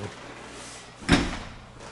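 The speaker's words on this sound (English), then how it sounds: "I'll show you the dishwasher right now. Full-size dishwasher, nice and clean inside, ready to go." A full-size kitchen dishwasher door thuds open once, a short, fairly close knock over a quiet room with no talk.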